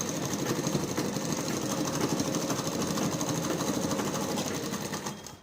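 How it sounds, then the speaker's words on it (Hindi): A sewing machine runs steadily while stitching a petticoat, a close, continuous rapid mechanical whirr that holds even for several seconds and then winds down at the end. "अब सिलाई लगा देंगे, ऐसे।"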